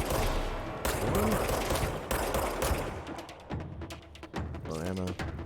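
Rapid bursts of gunfire in the video game Control, loud and dense at first, then breaking into shorter volleys with talk over the later part.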